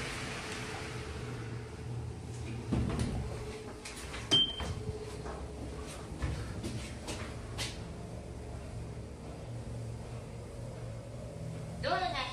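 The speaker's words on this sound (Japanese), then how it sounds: "ドアが開きます。" An elevator door at a station in Morioka (JR Yahaba Station) opens with soft mechanical clunks and a sliding rumble, set against a steady hum of machinery and ambient station noise, with people talking nearby.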